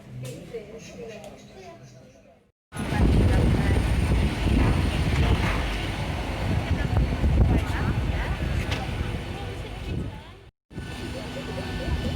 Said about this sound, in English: I've just got another plane now by RyanAir